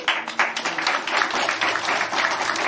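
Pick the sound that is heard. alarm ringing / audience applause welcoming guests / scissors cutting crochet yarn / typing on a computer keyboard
audience applause welcoming guests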